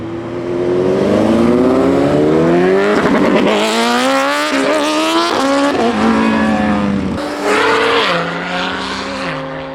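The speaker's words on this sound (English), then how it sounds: "911 convertible." A Porsche 911 convertible drives past, its engine revving loud and close with rising pitch sweeps through several gear changes before easing off as it moves away.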